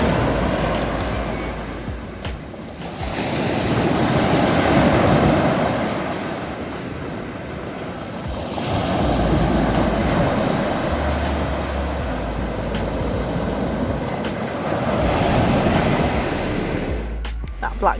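Sea waves break on a beach in repeated swells, each rising to a broad rushing roar and then easing, loud and close, with wind buffeting the microphone and faint voices now and then.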